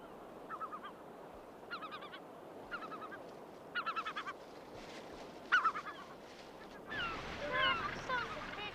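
Seabirds in a cliff colony on an island call in short repeated bursts of harsh, nasal cries, moderately distant and faint, with a steady wind or sea wash behind them.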